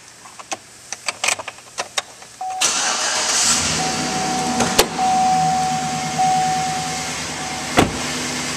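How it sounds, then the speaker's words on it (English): A 2011 Chevrolet Silverado 1500 LT Z71 crew cab 4WD pickup: a few sharp clicks, then the engine cranks and fires, settling into a steady, close idle with a faint whine over the rumble. "Now we'll go start this vehicle up."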